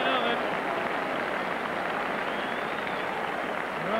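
Steady crowd applause fills a football ground during a 1993 Scottish Premier Division match between Dundee United and Aberdeen, a dense continuous wash of clapping with a commentator's voice over it.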